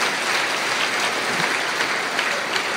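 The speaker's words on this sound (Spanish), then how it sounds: "Dale un fuerte aplauso al Señor." A church congregation claps loudly and steadily in response to a call from the pulpit, dense continuous applause filling the room with no talk over it.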